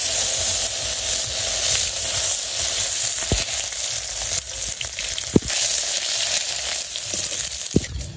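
Ginger frying in hot oil in a wok in a village kitchen gives a loud, steady sizzle throughout, broken by a few sharp spatters and stirring taps close by.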